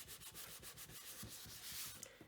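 Quiet, rhythmic rubbing strokes as a folded paper card is burnished by hand, about a dozen quick scrapes in steady succession, close and soft, with no talking.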